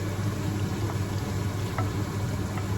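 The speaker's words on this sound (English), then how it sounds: "I'm melting the butter." Butter melting in a pan for creamy chicken fettuccine, a soft steady sizzle and faint bubbling with occasional small pops, close and continuous without talk.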